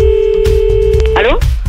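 A telephone rings during a French radio call-in show, a steady electronic ring tone with a warbling burst near the end, set against studio background noise and voices.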